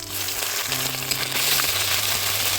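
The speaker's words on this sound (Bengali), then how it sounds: "আর আদা বাটা দিচ্ছি।" Ginger paste hits hot oil with bay leaves and dried chillies, giving a loud, close, continuous sizzle with faint stirring scrapes; no one speaks over it.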